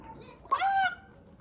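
A chicken lets out one brief, loud squawking call, close by, rising out of a quiet background with no talk over it.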